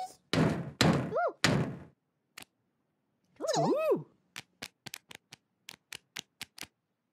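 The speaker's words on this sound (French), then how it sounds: "Quelqu'un frappe à la porte." Quick, sharp knocks on a door ring out, about ten short raps in an uneven string, after a few whooping, cartoonish sounds in a children's animated show.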